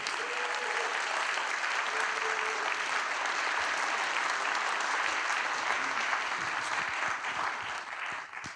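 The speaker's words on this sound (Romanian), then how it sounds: "Aplauze pentru toți concurenții, vă rog." A gala audience at an awards ceremony for young laureates applauds all the contestants with sustained, even clapping at moderate volume, thinning slightly toward the end.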